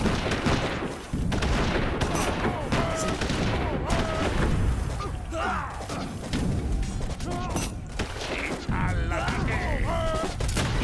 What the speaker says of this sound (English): the gunshots are so loud.